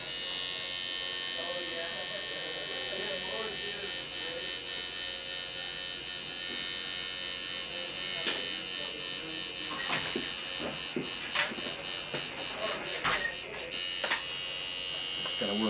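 A tattoo machine packing solid black ink into tribal work on skin, a steady loud electric buzz running throughout with slight wavering as the needle moves, a voice talking faintly underneath.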